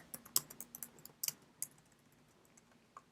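Computer keyboard typing while entering an SQL query: a quiet run of irregular key clicks and taps, busier at first, then sparser with a few isolated keystrokes near the end.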